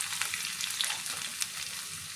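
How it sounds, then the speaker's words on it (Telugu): Tempering spices and coarsely crushed garlic fry in hot oil for a green-okra chutney, giving a close, continuous crackling sizzle with small sharp pops scattered through it. "తాలింపులు వేగనిద్దామండి"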